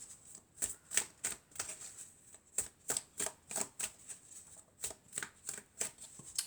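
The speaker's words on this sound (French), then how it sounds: "on va prendre quelques cartes de l'oracle de la triade" Oracle cards are shuffled by hand, a rapid series of crisp riffling flicks in short regular bursts, close and fairly quiet.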